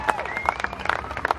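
An audience at a Polynesian Cultural Center show claps steadily for a moment, with a few louder sharp claps over a lighter, moderately distant patter.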